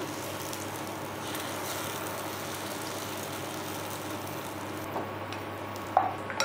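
Potato dosa batter hisses on a hot tawa in a continuous broadband sizzle that holds level throughout, with a couple of small clicks near the end and no talking.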